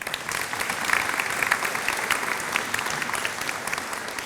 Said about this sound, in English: I'd like to give those folks a round of applause as well.